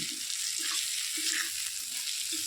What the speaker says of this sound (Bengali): এই এই দেখো মাছগুলো ভাজা ভাজা হয়ে গেছে